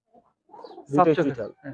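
Palla line pigeons coo close by in one short rolling, throaty call that follows a few soft lead-in notes.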